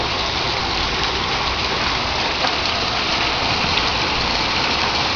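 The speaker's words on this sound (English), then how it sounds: "I awoke to lightning, thunder, and rain and hail." Heavy rain mixed with hail pours down steadily during a thunderstorm, a dense, constant hiss and patter of drops and stones striking surfaces at close range with no pauses.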